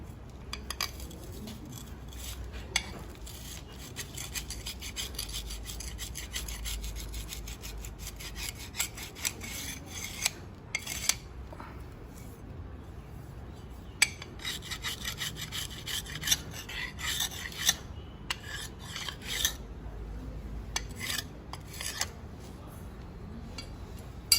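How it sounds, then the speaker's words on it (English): Excess soil scraped off the top of a Proctor compaction mold with a metal tool, a steady rasping scrape repeated in short strokes for about twenty-five seconds, close and fairly quiet with occasional sharper scratches. "So the excess soil that is there, we should scrape it off using this tool."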